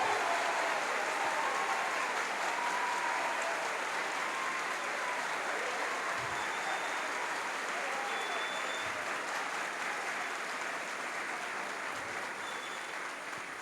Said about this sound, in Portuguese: que acolham com carinho e com a grande e calorosa salva de palmas o nosso pároco, Padre Renato.